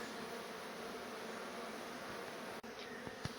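Honey bees from a beehive being relocated out of a garage wall, making a steady, dense buzzing throughout, with a couple of brief knocks near the end.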